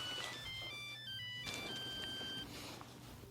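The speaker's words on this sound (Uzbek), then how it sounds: "Nima? Sotuviy telefonmi?" A mobile phone ringtone plays a steady, fairly faint electronic melody of repeated tones, alone with no talking.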